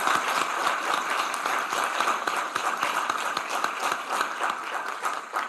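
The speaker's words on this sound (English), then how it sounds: "So give her a round of applause." An audience at a Washington County, Tennessee commissioners' meeting applauds a public speaking winner headed to the state competition, with dense, steady clapping sustained through the whole stretch at moderate loudness.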